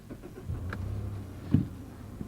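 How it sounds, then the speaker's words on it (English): A new Mazda car's engine cranks briefly and catches, settling into a low, steady idle nearby. "it's a new car, of course it starts right up."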